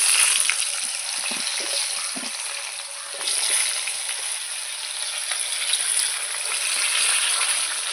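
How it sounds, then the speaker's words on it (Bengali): Green banana and potato pieces fry in oil in a wok over cumin tempering, giving a continuous crackling sizzle that swells and eases with occasional stirring, no talk. "কাঁচকলা আলু ভালো করে লাল লাল করে আমি ভেজে নেব।"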